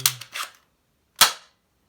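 A toy gun fires a sharp, close snap, preceded by a couple of quieter clicks and followed by silence.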